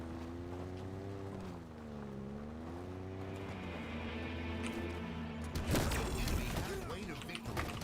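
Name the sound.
vehicle engine in Halo Infinite video game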